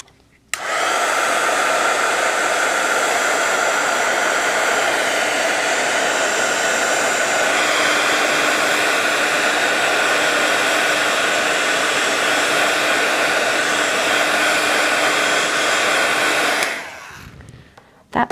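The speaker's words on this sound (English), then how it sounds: "let's do this with a heat tool just to make sure everything is dry" A handheld heat tool blowing over watercolor paint: a steady, loud, whirring blast that runs unbroken for about sixteen seconds before cutting off.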